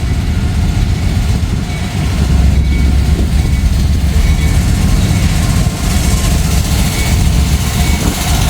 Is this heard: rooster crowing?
no